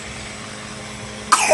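A child gives a short cough right at the end of a quiet indoor stretch with faint background hum, a single brief burst near the microphone.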